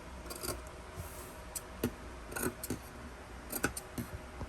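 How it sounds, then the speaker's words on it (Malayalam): Cloth is cut with scissors for sewing a neckline, heard as a few sharp, close snips spaced irregularly over a quiet background, with no talking. "ഈ തുണി ഇങ്ങനെ ഒന്ന് ഫുൾ അങ്ങോട്ട് കട്ട് ചെയ്ത് മാറ്റുക"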